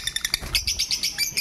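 Green opaline pet birds chirp close by in quick, repeated bright tweets and calls that overlap in an uneven rhythm, with no talk.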